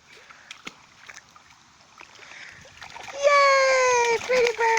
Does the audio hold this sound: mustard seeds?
no